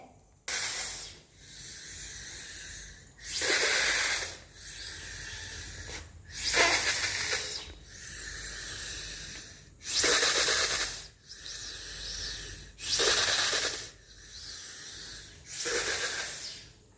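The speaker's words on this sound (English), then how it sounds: "Now I show an example of Bernoulli's principle in spray format." A spray bottle hisses in short, regular bursts, about seven squirts spaced roughly two seconds apart, close and fairly loud with quiet gaps between.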